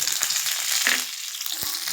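Dried chillies and curry leaves tempering in hot oil with mustard seeds, cumin and lentils, a loud close sizzle and crackle with a few sharp pops and no talking.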